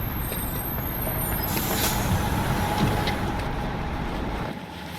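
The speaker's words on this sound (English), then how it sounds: "that's a school bus" A school bus rumbles steadily past, close and loud, with a hiss of air brakes near the start.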